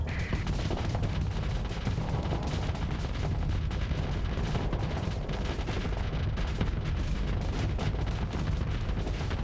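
Torpedoes and ship weapons fire in the space combat game Starsector. A dense, continuous barrage of booming shots and rattling gunfire fills the whole stretch at a fairly low level.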